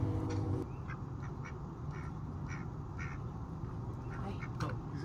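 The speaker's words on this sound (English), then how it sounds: "these ducks sat with me the whole time" Ducks quack repeatedly at close range beside a van parked in Nashville, Tennessee, with steady background noise and some talking.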